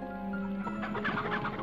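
Chicken clucks from the PS1 game MediEvil, a few short clucking calls rising over a steady game music drone in the second half of the clip.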